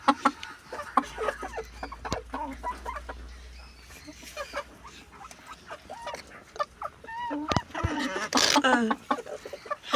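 Backyard chickens, one of them black, cluck intermittently while filing into a wooden coop at night, with scattered near clucks and rustling over a quiet background.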